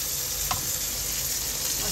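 Bottle gourd skin frying in a pan, a continuous bright sizzle of hot oil with a faint stir or clink near the start.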